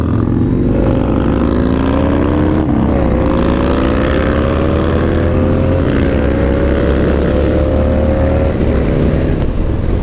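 A Yamaha Road Star Warrior 1700 (102 cubic inch, 1700 cc) motorcycle is ridden, its big V-twin engine rumbling loud and steady throughout, with pitch rising and falling through several gear changes against wind noise.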